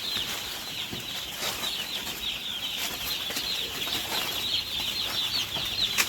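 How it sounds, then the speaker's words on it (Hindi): Baby chicks being emptied out of partitioned transport crates at a poultry farm, a dense continuous chorus of high peeping close by with scattered rustles and flutters, no talking. "अब देखिए हम फ्रंट एरिया से चिक्स को खाली करना शुरू कर दिए हैं।"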